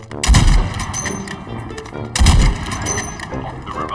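Two heavy sniper rifle shots boom in the video game Call of Duty Mobile, each a loud punchy blast with a ringing tail, spaced about two seconds apart.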